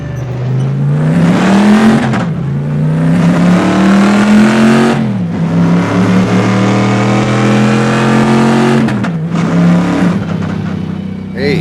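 A car engine revs loudly and repeatedly, its deep growling tone rising and falling in long surges with a raspy, throaty edge.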